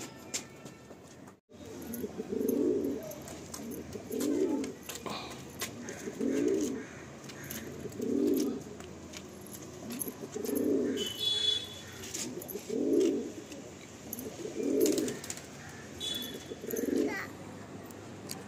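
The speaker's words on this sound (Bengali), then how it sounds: "আপনারা আমাকে অবশ্যই একবার জানাবেন এই আমার পায়রাগুলো আপনাদের কেমন লাগলো, এই চারটে কালাঙ্কা কেমন বন্ধুরা" Kalanka pigeons give a steady series of low, rounded coos, about one every two seconds, close by against faint background noise and distant children's voices.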